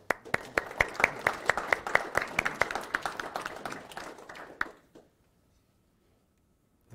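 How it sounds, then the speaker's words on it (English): A small audience at an organisation's annual meeting gives a short round of applause. The claps are distinct and rhythmic, build briefly, then die away into near silence after about five seconds. "I would like to lead a round of applause for Jerry and Muriel for the fine work they'"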